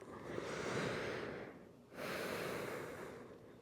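Two slow, audible breaths are taken in yoga child's pose, each a long airy rush through the nose with a brief quiet gap between them, close and intimate.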